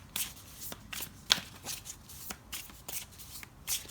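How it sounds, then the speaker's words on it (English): Tarot cards are shuffled by hand in a quiet room, a string of short crisp riffling and slapping bursts repeating every half second or so, close and fairly soft, with no voices. "So let's pull some tarot cards to get more information."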